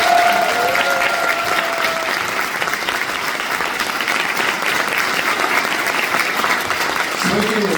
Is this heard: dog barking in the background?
no